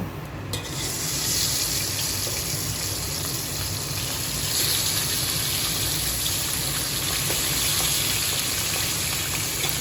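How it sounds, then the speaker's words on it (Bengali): Pabda fish frying in hot oil gives a steady, dense, loud sizzle with no breaks and no voices. "তেলটা এখানে গরম হয়ে এসেছে আমি এবার মাছগুলো এর মধ্যে দিয়ে দেব"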